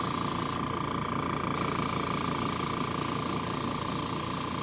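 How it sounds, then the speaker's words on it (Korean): Purple paint sprayed onto fishing reel parts during a custom reel topcoat job, a continuous close hiss of aerosol spray running steadily throughout with no pauses and no voices. "여기 뿌리실 때 제가 팁을 하나 드리자면은, 안쪽 먼저 칠하는 게 좋아요."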